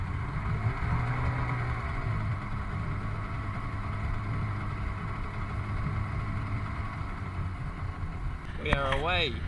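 An outboard motor on a rebuilt boat drones steadily over rushing water, loud and continuous, with a short whistle-like tone near the end.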